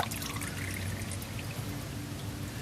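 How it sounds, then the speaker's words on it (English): Used motor oil pours out of an upturned car oil filter from a Hyundai Elantra Touring, making a continuous close, soft liquid stream and trickle with no voices. "Always turn it upside down to get the oil out of the oil filter."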